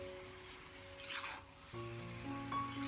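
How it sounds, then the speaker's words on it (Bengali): Sugar being stirred slowly in a pan while it melts for amla (Indian gooseberry) pickle: a brief soft scraping swish stands out over a steady low hum, with no talking. "তো দেখো এমন করে আস্তে আস্তে ঘাটতে ঘাটতে কিন্তু চিনিটা গলে নেওয়া লাগবে।"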